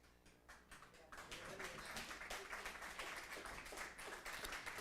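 Audience applause and clapping fill a hall steadily after a brief lull, the dense clatter of many hands rising at about one second and holding loud throughout.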